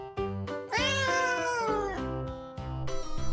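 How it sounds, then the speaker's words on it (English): A cartoon cat meows several times in an educational counting animation for young children, drawn-out tonal mews close and clear. "Cat."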